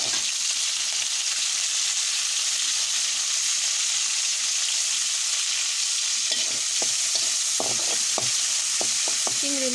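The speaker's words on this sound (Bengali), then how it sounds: "চিংড়ি মাছগুলো ভালো করে পেঁয়াজের সাথে ভেজে নেব।" Prawns fry with onions in a pan, making a steady, dense sizzle throughout. A few light knocks of stirring come through toward the end.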